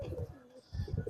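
Pigeon at a loft in Bangladesh, two soft, low throaty coos close by with a short pause between them, rather quiet overall.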